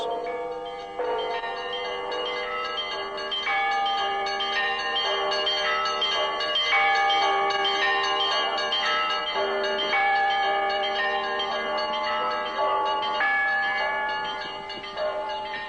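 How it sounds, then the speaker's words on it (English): Church bells ring out from the tall Russian bell tower known as the Russian Candle in Jerusalem, calling nuns to morning mass, several bells sounding a continuous, overlapping peal with ringing tones layered over a steady wash. "From the tallest bell tower in Jerusalem, known as the Russian Candle, Sister Natalia calls the nuns to their morning mass."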